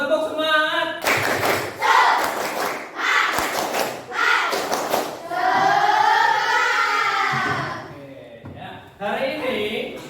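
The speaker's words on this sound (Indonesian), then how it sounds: "Sebelumnya kita tepuk semangat dulu, tepuk semangat." An Indonesian school class performs a rhythmic spirit clap, loud bursts of clapping in a patterned beat mixed with children's chanting voices, with stretches of group chanting between the clap sections.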